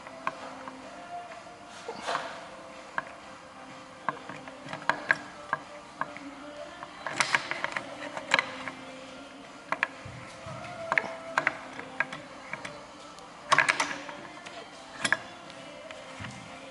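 Winding handle on a Bridgeport milling machine's Vari Speed head turning with repeated ratcheting, geared clicks, close and moderately loud, with brief louder clusters and some faint voice in the background.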